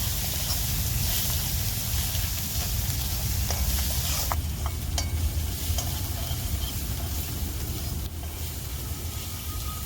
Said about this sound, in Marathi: मी तर मी थोडस परतून घेणार आहे तेलात